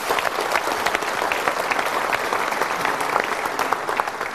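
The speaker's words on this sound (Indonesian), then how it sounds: "Tapi Brita berikan tepuk tangan dulu." Dense, lively audience applause rolls on steadily, many hands clapping at once with no voices on top.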